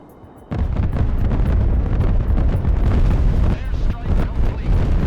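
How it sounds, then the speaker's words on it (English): An airstrike in the war game Broken Arrow lands with a sudden heavy boom, then a long rolling, rumbling wave of blasts and debris that stays loud and deep for several seconds. "Airstrike complete."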